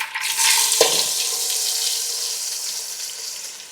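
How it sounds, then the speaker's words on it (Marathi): Onion dropped into hot oil tempering for a Konkani jackfruit vegetable curry, bursting into a loud, steady frying sizzle right after a brief thud, holding on close and bright with no talk. "आता आपण यात कांदा टाकूया."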